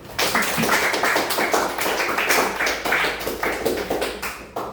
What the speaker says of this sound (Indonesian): Kalian kita berikan aplaus untuk kita semua.